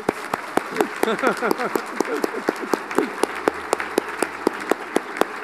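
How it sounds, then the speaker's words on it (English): Scattered clapping from an audience, a few sharp claps at a time rather than a full roar, with a voice talking over it. "You can applaud that."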